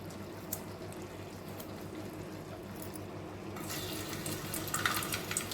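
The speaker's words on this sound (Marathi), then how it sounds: "त्याच्यामध्ये तेल ओतून घेऊया" Cooking oil pours into a heated pot in a home kitchen, a soft continuous liquid trickle up close that turns a little brighter and louder toward the end, with no talk.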